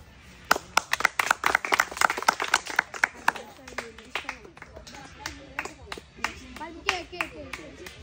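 A small group claps hands in quick rhythmic bursts at a children's spin-the-bottle food prize game, then the clapping fades and people talk.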